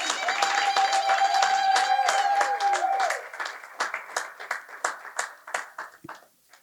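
A church congregation claps and cheers for a newly married couple at a wedding blessing, first a dense wash of applause with a held vocal cry, then thinning into scattered individual claps that fade out.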